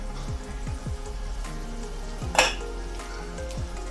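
Roasted peanuts, chopped coriander and vermicelli fry and get stirred together in a pan for sevai upma, with a steady sizzle and several soft scraping strokes of the spoon, plus one sharper clink near the middle.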